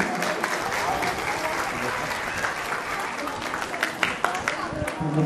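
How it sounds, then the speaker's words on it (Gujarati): Applause from a crowd at a community get-together, a sustained, close clatter of many hands that runs throughout with some murmured voices mixed in. "જોરદાર તાળીઓથી આપણે વધાવીએ."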